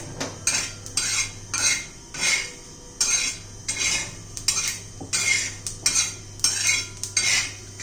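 Sesame seeds and cumin are dry-roasted in a pan for a village-style sesame chutney, a metal spoon scraping and clinking against the pan in a regular, repeated stirring rhythm, close and fairly loud, with no talk.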